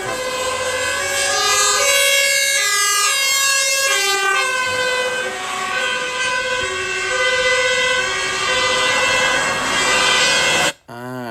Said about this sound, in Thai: เสียงไซเรนที่เราได้ยินนะครับ